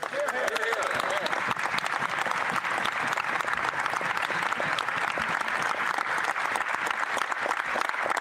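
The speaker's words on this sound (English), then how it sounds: "Those are clapping." Sustained applause fills the Canadian House of Commons during a federal budget presentation: dense, steady clapping from many members, heard at a distance throughout.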